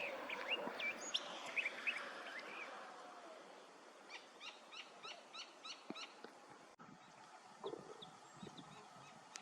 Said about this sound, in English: You can hear curve-billed thrashers singing in the background.